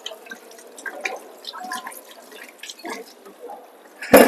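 Water runs and splashes in a sink as dried skin paste is rinsed off the hands, with scattered drips and trickles, then a loud close burst of pouring water at the end.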